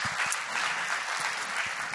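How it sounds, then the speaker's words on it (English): A crowd claps steadily throughout, a dense wash of applause at fairly close range with no voices standing out. "why don't we give him a warm welcome and warm round of applause?"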